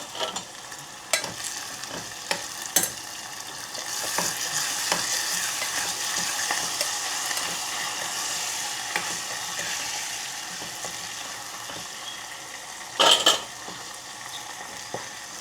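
Cluster beans and curry leaves fry in a pan for a Gujarati dish, giving a steady close sizzle with a few sharp metal spoon clinks and stirring scrapes, one louder clatter near the end.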